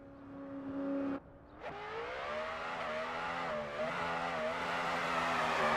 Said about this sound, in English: Austin Zalewski at the line, ready to go in his Supra.